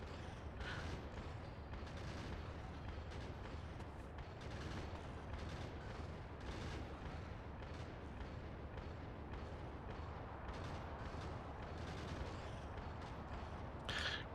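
Dense, continuous gunfire from anti-material rifles in the game Factorio, modded Krastorio 2 Space Exploration, with rapid, overlapping shots forming a constant loud barrage and a few sharper cracks standing out.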